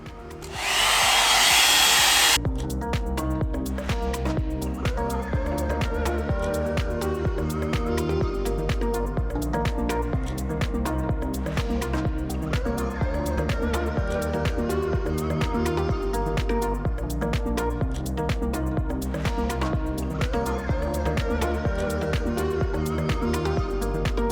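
A Bondi Boost hot air blowout brush runs with a loud, steady whir and hiss after a brief burst of louder blowing at the start.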